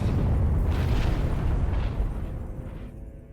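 A loud, close explosion in the space game Elite Dangerous: a heavy booming blast that rumbles and slowly fades over a few seconds, with no talk over it.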